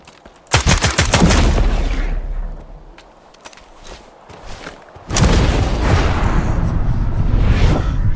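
Gunfire in S.T.A.L.K.E.R. 2: Heart of Chornobyl comes in two loud bursts of rapid shots with booms and whooshes, separated by a quieter stretch of scattered distant shots.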